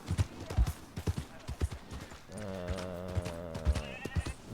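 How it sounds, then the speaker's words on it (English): Horse hooves clip-clop in a steady gait while the animal is ridden in the Red Dead game, then the horse lets out a long whinny near the end, all fairly quiet. "This horse really doesn't like me riding him."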